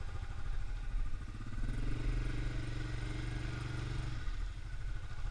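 A Yamaha Grizzly 550 ATV churns through deep muddy water with its engine partly submerged, a steady mid-pitched motor drone that rises briefly in revs, then settles, recorded close but at modest level.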